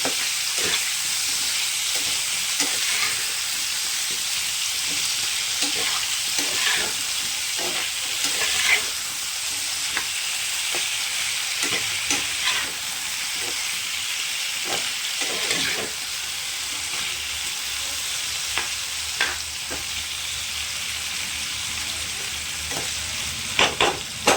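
Potatoes browning in hot oil in a pan, a continuous bright sizzle with intermittent spatula scrapes and taps as they are turned, close and fairly loud throughout with no voices.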